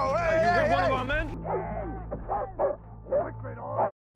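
A dog barks in a World War II prisoner-camp scene from the drama series Masters of the Air, its barks mixed with shouted voices and loud soundtrack.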